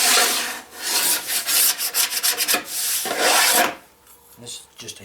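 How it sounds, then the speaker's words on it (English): Hand scraper drawn over wood to remove excess finish from a chuck box piece being prepared for laminating, giving repeated loud rasping strokes close by, then a pause with a few lighter scrapes at the end. "I'll take the scraper and just kind of scrape off"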